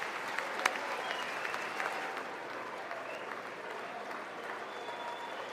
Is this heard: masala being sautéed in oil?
no